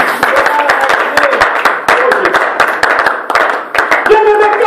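Church congregation applauding together, dense rhythmic clapping that fills the room loudly and steadily, with voices calling out beneath the applause.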